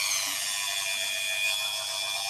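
A cork fishing float being sanded with a plugged-in power tool, a steady high whirring grind heard close and continuous throughout.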